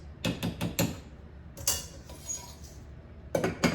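A spoon knocks and scrapes against a pot while mixing cooking rice, with quick bursts of three or four close clinks, a pause, then a pair of louder taps.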